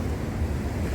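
Ocean surf rolling onto the beach at Mazatlan, Mexico, with a storm passing offshore: a steady, low wash of small waves blended with wind rumble across the microphone, continuous and fairly close, with no voices.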